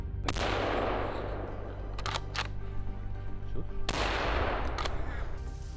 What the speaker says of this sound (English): Then, the gunfire resounded, tearing the silence.